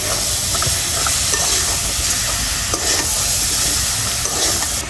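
Ground spice paste with vegetables and turmeric-coated fish being fried and stirred in a pot for a village-style desi chicken curry: a loud, continuous sizzle with dense scraping and stirring throughout, and no one speaking.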